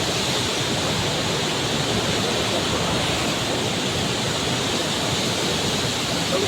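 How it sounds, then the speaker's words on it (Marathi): The Godavari river rushes past in a loud, steady broadband roar of flowing water, close and unbroken throughout with no voices. "पाण्यात आवाज खूप आहे इथं"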